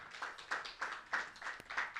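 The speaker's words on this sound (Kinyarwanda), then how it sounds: "Duhe amashyi." An audience claps in rhythmic bursts about three times a second for a student winning a prize at a ceremony honouring top performers in national exams. The clapping is steady, fairly close and sounds alone.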